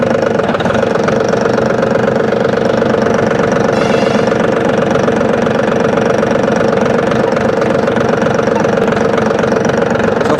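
Powertrac Euro G28 4x4 mini tractor runs in gear with four-wheel drive engaged, its steady diesel engine drone and mechanical knock continuous and loud throughout, with no talk.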